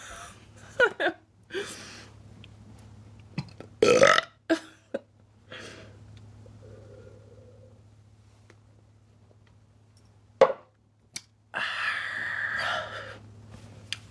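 Loud, deep burps from a man come in several separate bursts, some long and drawn out, with quiet gaps and a low steady hum underneath.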